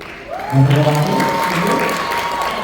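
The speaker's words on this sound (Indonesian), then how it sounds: "tepuk tangan untuk Muhammad Ibrahim." Audience applause fills a hall at a Samarinda cultural ambassador pageant, a sustained patter of clapping hands that swells and holds, with a faint voice sounding over it early on.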